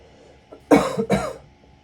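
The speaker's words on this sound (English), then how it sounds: "I was disguising a cough." Two sharp coughs in quick succession, close and fairly loud, with a faint throat sound just before and quiet afterward.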